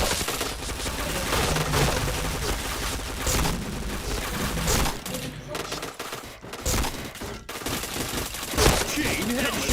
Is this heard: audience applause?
no